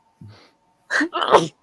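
A single close, loud sneeze preceded by a brief sharp inhale, with a quick second burst trailing right after.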